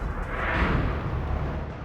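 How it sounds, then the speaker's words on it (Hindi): A blast at a police station in Nowgam, Jammu and Kashmir, caught on CCTV at night: a loud, sustained rumbling boom with broad roaring energy that swells and slowly decays, no voices present. "धमाके की तस्वीरें सीसीटीवी में रिकॉर्ड हो गई"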